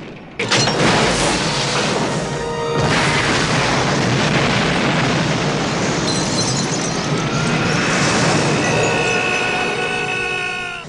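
A sudden loud blast from a movie action sequence opens into a roaring, crashing wall of explosions and debris that stays dense and heavy for several seconds.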